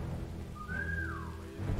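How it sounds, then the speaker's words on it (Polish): A single clear whistle rises and then slides down, heard over a low background hum in the Commandos video game, with no one talking. "Bo znowu trzeba gwizdać, co nie?"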